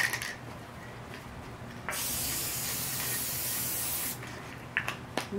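A long, steady hiss of an aerosol spray adhesive can held for a couple of seconds, followed by a shorter burst and a few small clicks.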